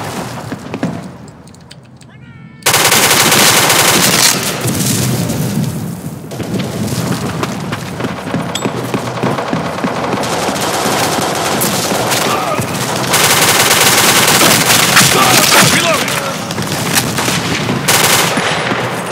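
Dense, sustained automatic gunfire from a first-person shooter video game, loud and continuous with rapid bursts and booms, kicking in abruptly after a quiet start, with players talking over it.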